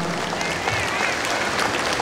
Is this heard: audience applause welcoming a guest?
yes